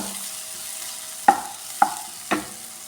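Three sharp scraping clinks of a spoon stirring cumin masala roasting in a pan, spaced about half a second apart, over a faint steady sizzle.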